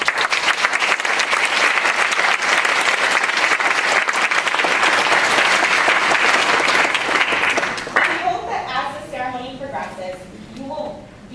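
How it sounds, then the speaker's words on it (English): Graduation ceremony audience at Georgetown's Asian Heritage Ceremony giving a loud, sustained round of applause for family and friends, dense clapping that fades after about eight seconds as a speaker begins talking. "Graduates, please take a moment to thank our family and friends by giving them a round of applause"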